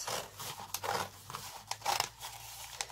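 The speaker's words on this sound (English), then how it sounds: "I'm going to take my marks here and here and I'll cut the strips" Scissors slicing through newspaper into strips, a run of crisp, papery snips and crinkles in irregular bursts, close and fairly clear against a low background hum, no one speaking.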